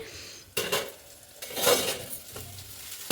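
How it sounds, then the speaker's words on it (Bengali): Food being stirred in a pan during home cooking, with repeated scraping strokes of a utensil against the pan over a soft sizzle, close and clear, with no voices. "নাড়তে হয় সারাক্ষণ, নেড়ে নেড়ে রান্না করতে হয়"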